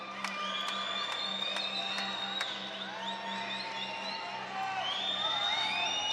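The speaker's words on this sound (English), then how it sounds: "The crowd is going crazy right now." Crowd at a fight night event cheering and whooping steadily throughout, a dense roar of many voices with shouts rising over it.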